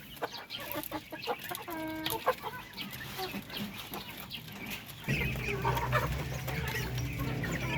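Darag native chickens cluck and cackle close by while picking at pellet feed, with short, scattered calls over a rustling background that turns into a louder steady hum partway through.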